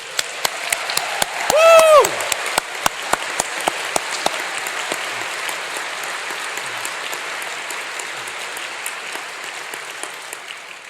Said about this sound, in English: please make some noise up in Bridgewater Hall and give yourself a massive round of applause